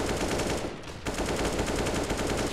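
Rapid automatic gunfire sprays from a Counter-Strike match on the Overpass map, loud and continuous bursts of shots with no talking over them.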